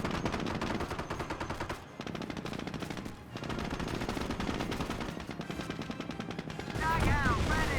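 Sustained MG42 machine gun fire from Company of Heroes, a loud continuous rapid rattle with brief pauses, mixed with other gunfire and battle noise.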